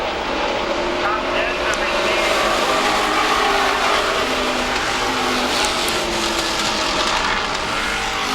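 Late model sportsman race cars run laps on a New England track, their engines a loud, continuous roar heard from a distance with little variation.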